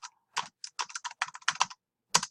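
Quick keystrokes on a computer keyboard while editing an essay, crisp close clicks in short uneven bursts of about a dozen taps, ending with a firmer single stroke, with no talking.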